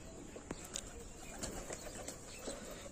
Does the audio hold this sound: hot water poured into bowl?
no